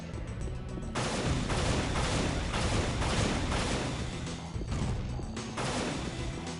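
Gunfire in the video game Unreal, loud, dense bursts of shots and impacts filling the whole stretch with little pause, no talking.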